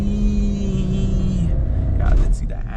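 The three-cylinder engine of a Skoda Kushaq accelerates on twisty roads, a loud, rough droning rumble heard from inside the cabin for a few seconds.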